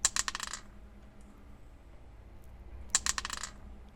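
Dice are tossed onto a tabletop in two quiet, separate bursts of sharp clattering, each rattling briefly for about half a second before settling, with near silence between them.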